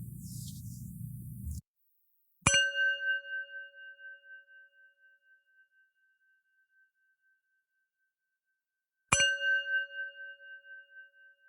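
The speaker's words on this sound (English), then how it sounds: "The show will begin after the following chimes." Two clear meditation bell chimes, each ringing out and slowly fading with a gentle pulsing shimmer, separated by several seconds of silence after a brief noisy opening.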